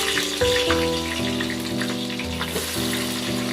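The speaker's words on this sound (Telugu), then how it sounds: "ఆయిల్ పోసుకున్న తర్వాత ఇలా హీట్ అయిన తర్వాత ఇలా ఆనియన్ అయితే వేయాలి" Onions fry in hot oil for chicken pulao, a continuous close sizzle with soft crackles, accompanied by steady sustained tones in the background.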